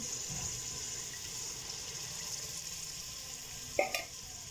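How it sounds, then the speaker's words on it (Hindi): Water poured into a pot of dal and meat being cooked at home, a soft steady gushing hiss that runs under faint kitchen sizzle, with a couple of brief clinks near the end. "अब मैं इसके अंदर डालती हूँ पानी।"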